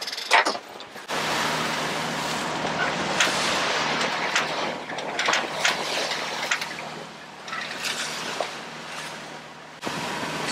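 Wind and waves striking a sailboat head-on off the Abacos, a steady broadband rush of water and wind buffeting close to the microphone, with surges and gusts throughout and a brief lull near the start.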